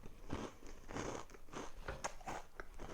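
Someone biting and chewing a spoonful of fruity cereal in milk, close and quiet, with a rhythmic series of crisp crunches at roughly half-second intervals.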